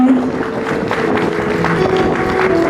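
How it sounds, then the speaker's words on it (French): Audience at a public ceremony honoring Denise Nyakeru Tshisekedi applauding loudly and continuously, a steady wash of clapping with faint voices under it. "si on peut applaudir très très fort"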